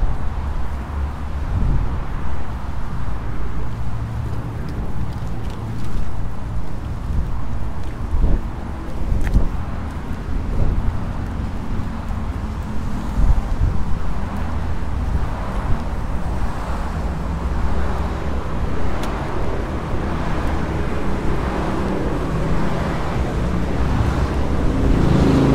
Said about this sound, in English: It's going to be pretty noisy with all the traffic coming backwards and forwards